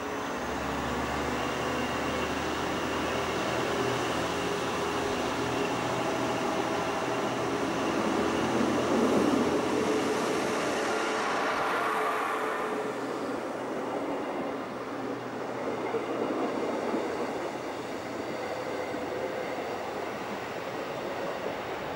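A Baureihe 628 diesel railcar with hydraulic transmission runs in a steady, loud drone with a rising and falling engine tone, heard close from inside the vehicle with no talking.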